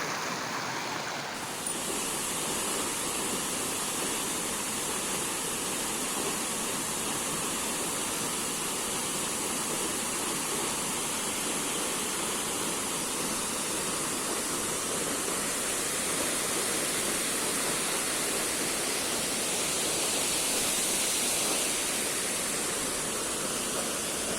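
A waterfall in Meghalaya plunging about 170 to 190 metres off a cliff into a gorge, producing a constant, dense hissing roar that holds steady throughout with no voices.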